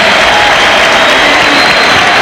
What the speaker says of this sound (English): Derek Harper sits down on the bench to a round of applause